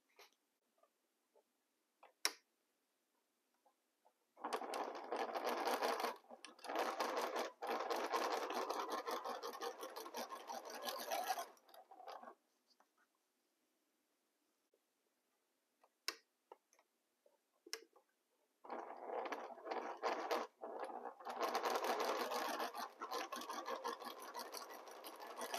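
A sewing machine stitches fabric pieces together in two long bursts of rapid, even stitching, separated by a quiet pause broken only by a few scattered clicks.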